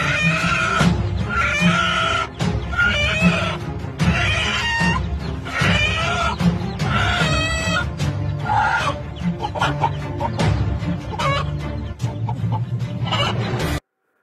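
A hen clucks and squawks loudly and continuously while defending her chicks from an eagle, with dense, agitated calls filling the scene and rooster-like cries breaking through.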